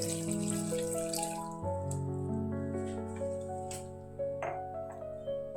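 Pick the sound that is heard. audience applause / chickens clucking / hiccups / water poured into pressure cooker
water poured into pressure cooker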